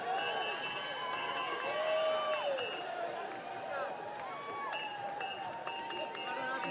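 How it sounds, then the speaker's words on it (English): Spectators along the Cape Town Marathon route near the finish cheer and shout in a steady, moderately distant crowd din, with whistles and wavering voices rising and falling over several seconds. "You can hear the cheers of the crowd"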